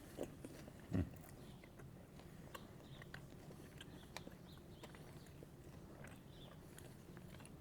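Someone biting into warm sourdough bread made with semolina flour and spread with salted butter, one crunchy bite followed by quiet, faint chewing close by, without talk.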